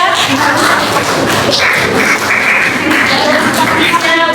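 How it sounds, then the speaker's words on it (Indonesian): Classroom applause for a student group's presentation, a dense steady wash of clapping from many hands lasting throughout, with a murmur of voices mixed in. "kita berikan tepuk tangan untuk kelompok 3."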